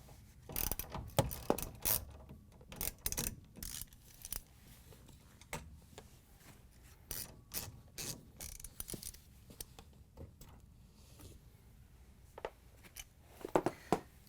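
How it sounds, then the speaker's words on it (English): A ratchet with a 5/16 socket backs out the bolts holding a refrigerator door hinge to its frame, giving close, quick bursts of clicking with short pauses between the turns. "Now we're going to use a 5/16 socket with the ratchet to take the bolts out"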